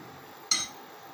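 Metal pan set down on an induction stove while preparing sugar syrup for rasagulla: a single short clink close by in a quiet kitchen.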